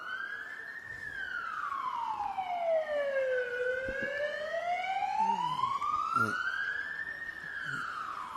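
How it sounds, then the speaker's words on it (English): An ambulance siren wails in a long rising and falling sweep as the vehicle passes near a lawn bowls match, loud and steady over outdoor background noise. "There's our first ambulance for the day."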